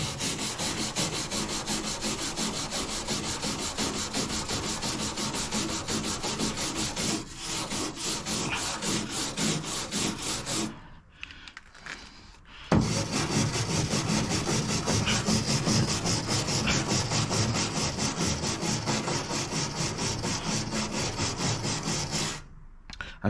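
A brush scrubs a rusty surface after rust remover is applied: a steady, close, rhythmic rasping stroke that runs continuously, pauses for a second or two midway, then resumes just as hard.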